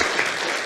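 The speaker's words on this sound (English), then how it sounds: "They're clapping." An audience at a graduation service claps in a steady, dense burst of applause that fills the whole moment, close and loud with no break.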